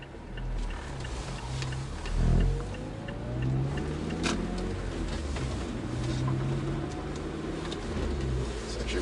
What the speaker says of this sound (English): I had the car running for a while before I came out.